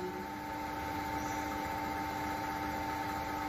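A rotary vacuum pump on a vacuum evaporation coating machine runs with a steady, even mechanical hum and a constant tonal whine, unchanging throughout and with no voices.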